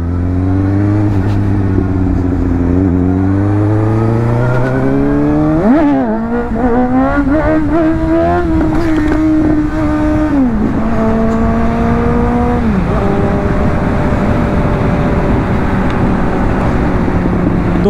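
A Suzuki GSX S750 motorcycle pulls hard in first gear, its engine note climbing steeply in several rising sweeps with brief drops at each shift or throttle change, loud and close throughout.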